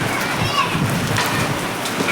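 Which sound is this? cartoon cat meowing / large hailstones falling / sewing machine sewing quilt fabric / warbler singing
large hailstones falling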